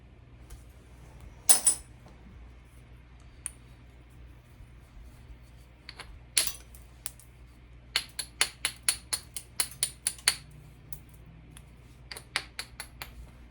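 Grey rhyolite being thinned by flintknapping gives crisp, close clicks and ticks, first scattered, then a quick run of about ten light strikes, over a quiet background.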